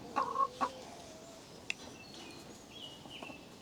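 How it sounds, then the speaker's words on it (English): Chickens cluck a few times in a hoop coop, a couple of close, brief clucks early, then sparse, fainter fowl calls over a quiet background with no talking. "I'm just gonna let these other chickens out."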